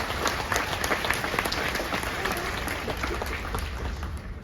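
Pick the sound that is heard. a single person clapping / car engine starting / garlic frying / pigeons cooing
a single person clapping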